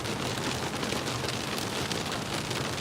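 Steady, dense rain falls close by beneath a road bridge, a loud even hiss of drops on surfaces with no pauses.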